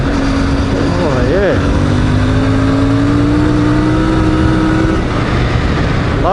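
A CFMOTO 450 MT motorcycle engine revs up and down close by, its pitch rising and dropping in wavering sweeps over steady wind rush while riding.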